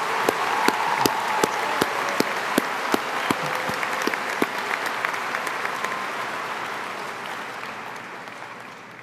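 Sustained applause from a university convocation crowd, dense clapping with a few sharper nearby claps standing out early, holding steady then gradually thinning and fading over about nine seconds.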